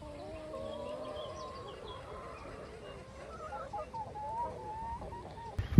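Clucking hens in a flock of about 150, soft overlapping clucks and murmurs heard at a moderate distance, low and continuous with a sharper noise at the very end.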